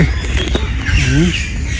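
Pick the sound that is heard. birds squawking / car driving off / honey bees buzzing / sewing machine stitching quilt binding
birds squawking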